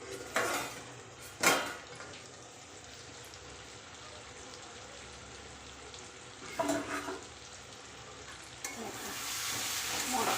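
Spiced masala for a Bengali potato curry (aloo dum) frying in a pan, with a steady low sizzle and a few sharp clinks of a spoon stirring against the metal at intervals.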